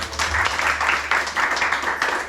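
Audience applause at an event: continuous clapping from a crowd, loud and close, with no talk over it.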